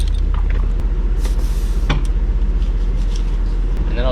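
Air suspension bags on a Turbo E30 let down, giving a steady hiss of escaping air over a low hum, with a short burst near the middle of the four seconds.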